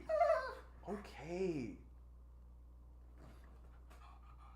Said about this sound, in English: My dog is losing his mind.